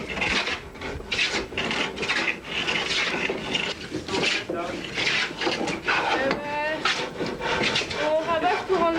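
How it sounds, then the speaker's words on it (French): Hand tool rasping and planing a wooden boat plank to smooth away saw marks, with rapid rhythmic scraping strokes that run continuously close by, mixed with people talking. "On ravache pour enlever toutes les traces de la scie et les rendre lisses"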